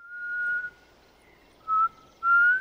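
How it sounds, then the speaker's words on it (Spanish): A character whistling in The Last of Us: three clear, sustained single-pitch whistles, the first long, then two shorter ones separated by pauses, close and alone. "Silba más alto, a ver si nos oyen"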